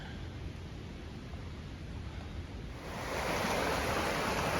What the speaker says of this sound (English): Now this is Muddy Fork Creek or something like that.